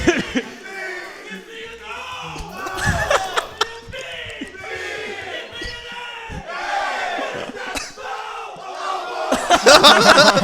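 A crowd at a Mario Kart Wii speedrun event yells and roars in waves, loud and close, rising to a burst of shouting at the end, with excited voices mixed in.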